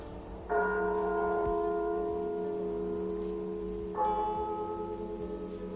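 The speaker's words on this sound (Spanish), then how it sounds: "me despertó a no sé qué hora, el doble de las campanas" A church bell tolls a death knell twice, several seconds apart, each strike ringing out and slowly fading with a long, resonant hum.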